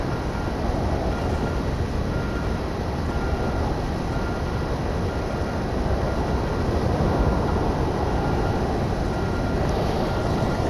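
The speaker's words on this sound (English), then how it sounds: "This is the best thing about the reverse thrust system in this." Reverse thrust from a Tornado IDS jet in a video game, a dense, continuous broadband engine roar that stays loud and steady throughout, with no talking.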